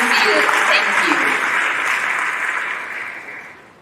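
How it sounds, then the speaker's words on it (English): An audience at a student presentation on substance use breaks into loud, dense applause that holds steady, then fades away over the final second. "Let's give them a round of applause."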